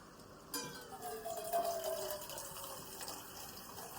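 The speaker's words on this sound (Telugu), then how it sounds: "నేను కొంచెం వాటర్ అయితే యాడ్ చేస్తున్నాను" Water is poured into a pot of Vizag-style chicken curry, a soft splash followed by a gentle trickle, faint and close in a quiet kitchen.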